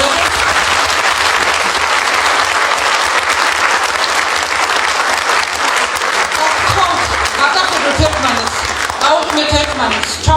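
Loud, sustained audience applause at a Georgian stage event, dense clapping with the hall's crowd noise swelling throughout and a few sharper claps standing out near the end.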